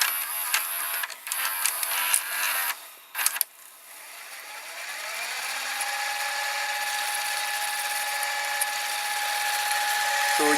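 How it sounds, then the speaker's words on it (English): A Sony VCR rewinding a tape at high speed: clunks and clicks of the mechanism unloading the tape, then a steady whirring tone that rises slowly and keeps going to the end, close and clear. "the high-speed rewind on this Sony VCR is very fast for a VCR of this time"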